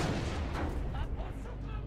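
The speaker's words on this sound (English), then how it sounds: "Coconut launcher!" A weapon launching coconuts in a modded Halo Reach fires with dense, booming blasts, loud and continuous through a short stretch, with a player's voice mixed in.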